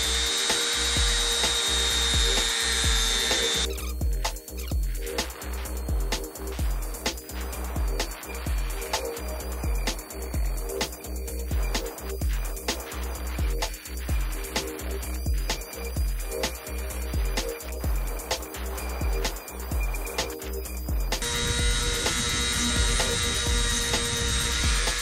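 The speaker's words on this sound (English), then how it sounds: "gonna use the Dremel again" A small Dremel rotary tool whines at high speed in long bursts, its pitch shifting slightly as it grinds and shapes a fishing jig prototype, close by and fairly loud.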